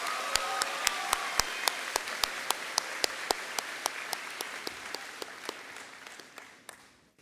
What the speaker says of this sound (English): Let's have a round of applause for those row of graduates.